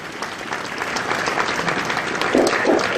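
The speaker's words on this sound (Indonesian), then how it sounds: "kepada para hadirin mohon memberikan aplaus." Audience applause in a formal hall after ministers sign a joint decree on school uniforms, a steady crowd of clapping hands that swells slightly toward the end, with no talk over it.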